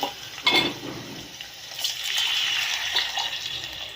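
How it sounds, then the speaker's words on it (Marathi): Water pours into a pan of sugar syrup tempering for dhokla, a steady splashing gush with a few sharper splashes near the start, heard close and without talk. "आता हे पाणी घालून घेऊया आपल्या सिरप तडक्यामध्ये"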